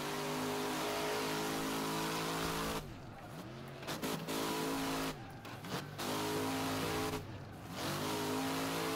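Engine of the Piper MKII mod car in the racing game Wreckfest, revving hard and steadily through a drift, with three brief dips where it lets off and the revs fall and climb again before screaming on.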